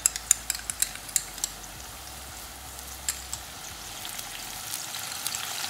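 Steady crackling sizzle of banana chips frying in hot oil, Kerala style, with a few sharp clinks and pops near the start as turmeric salt water is added.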